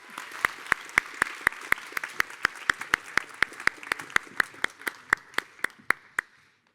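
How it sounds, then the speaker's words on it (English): Hands clap in slow, evenly spaced sharp beats, about three per second, over a softer background of crowd applause after a startup pitch at a cup finals night event. The clapping carries on without talk and then fades out. "Another round of applause, please."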